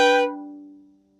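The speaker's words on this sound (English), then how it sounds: "another common example you'll hear in classical music is more of a full chord." A violin sounds a classical-style full chord across several strings: a bright, brief bowed attack that quickly thins to lower held notes and decays within about a second. Solo and close.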